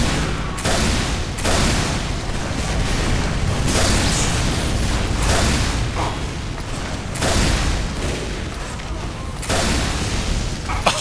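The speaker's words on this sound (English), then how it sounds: "How the heck did I get that delayed explosion?" Repeated explosions and bursts of combat noise from the team-based shooter game Team Fortress 2, loud and dense, including a delayed blast, with the booms and pops recurring throughout over busy gameplay sound.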